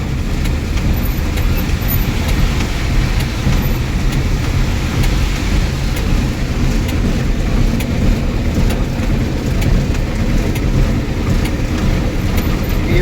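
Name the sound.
rain falling at a loading point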